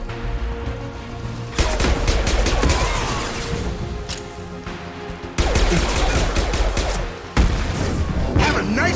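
Dense, loud bursts of sci-fi gunfire from the shooter game Mass Effect 2, rapid volleys with heavy impacts that cut off abruptly and resume several times, with no talk over them.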